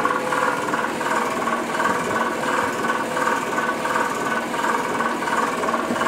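A fog machine running during a Graviflyer test gives a steady, loud mechanical buzzing hum with a faint regular pulsing throughout and no talking.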